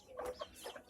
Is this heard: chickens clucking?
yes